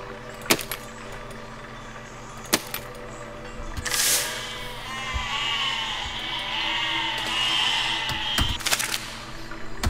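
Sheep bleating in the physics building game Besiege, several wavering calls rising and falling in the middle of the clip over a steady low hum and a few sharp clicks, fairly faint with no talking.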